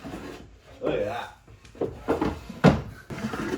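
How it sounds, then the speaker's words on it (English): A wooden nightstand drawer slides with rubbing scrapes and soft knocks, opening and shutting a couple of times, close and fairly quiet. "Drawer works pretty well."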